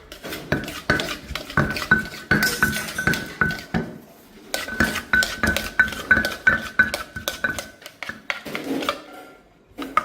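Shredded papaya with cucumber and mango tossed together in a bowl for Thai som tam, loud rapid clattering utensil strikes and scrapes against the bowl with a brief pause midway.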